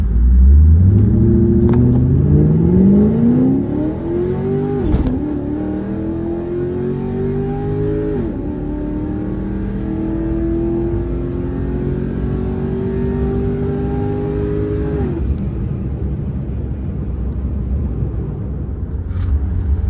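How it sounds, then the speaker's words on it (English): A Holden-built Caprice PPV police sedan with a V8 racing a C8 Corvette on a speedway track: the engine revs up through rising gear pulls with sharp shift breaks, then holds a loud sustained drone before backing off. "check out this race against a white C8 Corvette"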